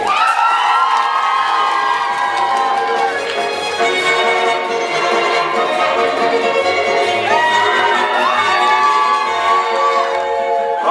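A studio audience at a televised children's talent show cheers and shouts continuously, loud and close, with whoops rising over a dense crowd roar and a melodic tune playing through it.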